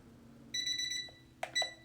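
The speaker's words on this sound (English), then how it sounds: "we set the timer really quick. It's going to go off." A potty-training timer goes off with a bright, electronic beeping alarm, two close bursts of steady tones separated by a short pause, in a quiet room.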